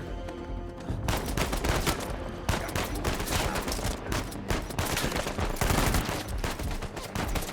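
Dense, loud gunfire from the video game Uncharted 4: rapid bursts and overlapping shots rattle almost without pause, briefly dropping quieter before swelling again.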